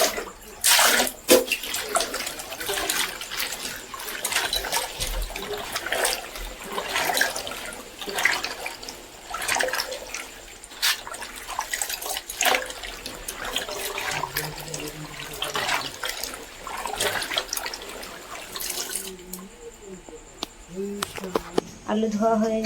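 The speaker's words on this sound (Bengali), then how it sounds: "এবার আলুগুলো আমি ধুয়ে নেব।" Water runs steadily from a tap while potatoes are washed by hand, with splashing and sloshing throughout before the flow stops near the end.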